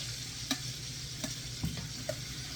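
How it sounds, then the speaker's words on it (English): Frozen chopped onions and peppers fry in bacon fat for Brunswick stew, a soft steady sizzle with a few brief utensil clicks against the pan, no voices. "It might splatter a little bit because I'm using frozen."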